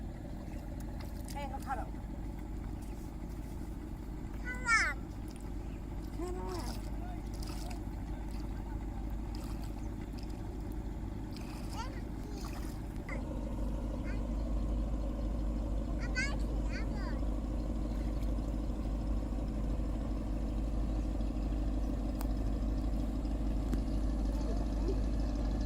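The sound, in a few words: boat engine on a river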